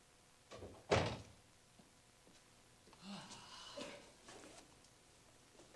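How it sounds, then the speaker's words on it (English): A door thuds shut once, sharp and close, early on, followed by softer rustling and handling noises in a quiet room. "Door."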